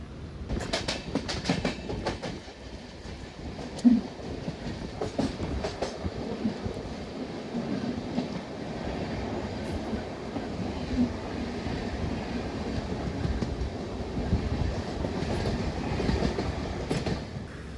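A Palaruvi Express train with LHB coaches runs after departing Iringalakuda station, heard from on board. A steady rumble carries sharp clickety-clack wheel beats throughout, busier in the opening seconds, with faint wheel squeal.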